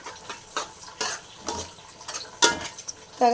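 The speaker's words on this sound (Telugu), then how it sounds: "ఇప్పుడు దీన్ని బాగా కలుపుకోవాలి ఈ టమాటాలు ఉల్లిపాయలు పచ్చిమిరకాయలు అన్నిట్లకి ఈ అల్లం వెల్లి పేస్ట్ బాగా పట్టాలి" Spatula scraping and clinking against a pan while tomatoes, onions, green chillies and ginger-garlic paste are mixed for Andhra-style country chicken curry; several separate scrapes and taps, close and moderately loud, no talk.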